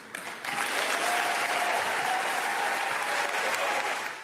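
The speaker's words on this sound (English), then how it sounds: "The speech was met with applause at the small Catholic college." Applause from an audience at a small Catholic college graduation speech, a dense, steady wash of clapping that swells after a brief quieter start and holds loud for several seconds before easing at the end.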